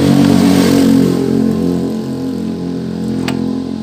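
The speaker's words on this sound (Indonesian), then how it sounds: "Lalu kita coba engkol." Yamaha Xeon scooter engine being kick-started, a loud close motor that catches and revs, then settles into a steady running drone.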